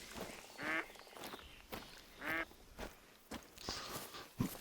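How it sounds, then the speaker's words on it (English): Ducks quacking in the hunting video game Hunter Call of the Wild, a few scattered nasal quacks at moderate distance over outdoor ambience after being spooked by a shot. "Yep, there go the ducks. We spooked them."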